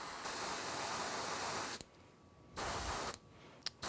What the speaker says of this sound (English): we're going to start to spray at an angle here